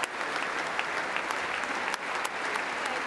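Members of the US Congress give Ukrainian President Volodymyr Zelensky a standing ovation, a sustained, dense roar of applause from a large room that stays even and full throughout, with no speech over it.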